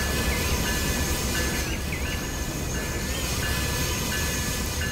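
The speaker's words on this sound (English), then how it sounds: "Right now, this train is gonna arrive at the place" GO train pulling into a station, a loud continuous rumble and rolling wheel noise with faint squeals and hiss layered on top, steady and close throughout, with no voices.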